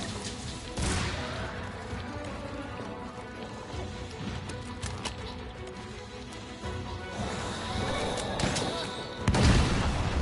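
Explosions and gunfire in a shooting video game crack and boom in bursts, with a heavy low blast near the end, amid steady game noise.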